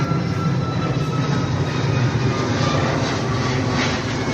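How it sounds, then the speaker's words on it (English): An airplane passes overhead near an airport, a steady, loud, broadband engine roar holding for several seconds with no talk over it. "Look, I got a plane."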